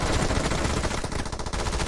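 Sustained rapid automatic fire from a P90 submachine gun in PUBG Mobile, a dense, loud, unbroken burst of shots filling the whole stretch with no talk over it.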